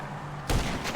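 A single sniper rifle shot in GTA Online, Snipers Vs Stunters adversary mode: a sudden loud, broadband crack about halfway through that lingers into a rumbling tail, over quiet game ambience.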